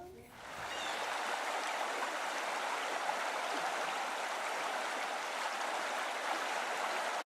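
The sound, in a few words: Eno River stream flowing over rocks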